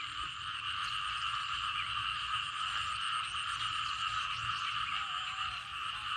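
After rainfall, a thick chorus of frogs and small frogs croaks nonstop, a bright pulsing drone sustained evenly throughout, with a faint low rumble beneath.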